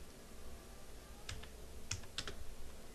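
A computer keyboard being typed on while a description is written, a few soft clicking keystrokes in a short cluster over a low steady room hum, close and quiet.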